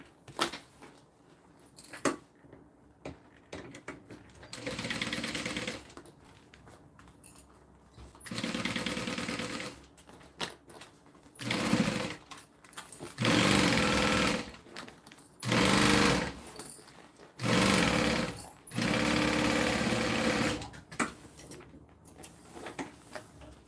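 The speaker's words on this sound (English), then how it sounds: "and then now we just got to sew them down" A sewing machine stitches down the sides of a fabric bag in several loud whirring runs of a few seconds each, separated by short quiet pauses.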